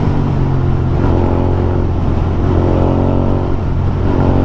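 Motorcycle engine accelerating hard after a downshift during a road chase, a steady loud roar with rising harmonic engine tones throughout, close and continuous with no talk.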